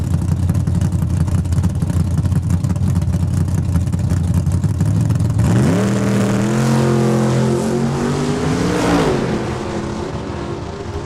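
An '87 Camaro and a Ford Mustang sit at the start line of a drag strip, engines rumbling loudly at idle, then explode into a screaming, climbing roar that fades slightly as the cars pull away, no voices.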